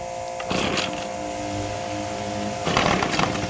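A two-stroke lawn tool engine burning non-ethanol premix catches and revs after priming and choking, with two bursts of rough buzzing engine noise separated by a steadier idle.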